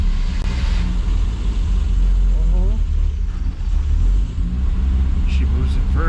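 A Triumph GT6 moves off in first gear, its engine rumbling low and steady close by with some squeaks and clunks, while people talk over it.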